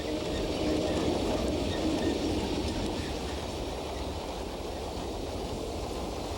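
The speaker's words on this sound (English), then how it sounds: "an electrified mine railway like this one at Espenheim, with a 900mm gauge electric locomotive so typical of" An electric locomotive runs on a 900mm gauge brown coal mine railway at Espenhain, giving a steady rumbling roll of wheels and wagons, fairly faint and continuous without talk.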